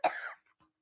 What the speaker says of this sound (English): Sorry, I was about to cough.